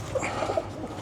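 An old racing pigeon gives a few soft, low coos close by over a faint background hum, brief and with no talking.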